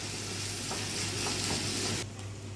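Minced meat and vegetables sizzle in a frying pan as they are stirred and mixed, giving a steady close crackle with soft scraping and a low hum beneath.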